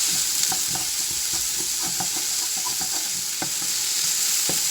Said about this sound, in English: it says to stir this and cook it until it's tender